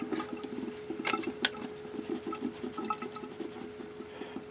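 Water runs steadily while sprouting seeds on their third day are rinsed, a close, continuous splashing trickle with a few brief louder spatters, heard on its own.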